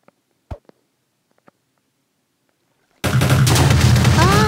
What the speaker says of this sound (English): Ah, it's exploding!